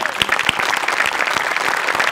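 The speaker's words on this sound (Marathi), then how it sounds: "सई, कॉस्ट्युम डिपार्टमेंटसाठी एकदा जोरात टाळ्या होऊन जाऊ देत" A studio audience at a Marathi comedy show applauds the costume department with loud, continuous, dense clapping from many hands, close and sustained for the whole stretch.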